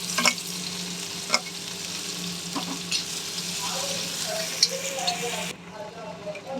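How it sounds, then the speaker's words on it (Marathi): Onion and garlic fry in a pan for an egg tawa masala, a steady close sizzle punctuated by sharp spatula taps, which softens suddenly near the end while stirring continues. "आता इथे लसूण टाकते. आणि हा कांदा आपण लालसर होईपर्यंत परतून घ्यायचा आहे."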